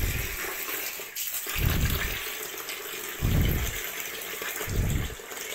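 Aquarium water pushed through a pipe gushes into a bucket in repeated surges, about four loud pulses separated by quieter trickling, close by.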